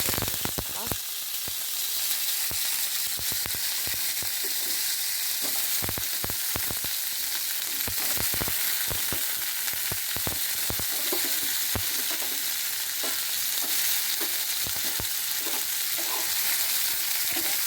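Vegetables frying in mustard oil in a wok, a steady close sizzle broken by sharp clatters and scrapes of stirring throughout.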